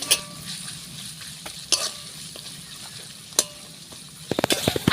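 Ginger garlic paste and onions sauté in oil for a Bengali prawn dish. A low, quiet sizzle runs underneath sporadic scraping stirs from a spatula, and the stirring becomes a rapid cluster of clacks at the end.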